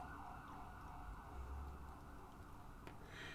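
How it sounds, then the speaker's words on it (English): An ambulance siren passes outside, a faint wavering wail steady throughout, heard distantly with low background rumble and no talk. "No, that was an ambulance."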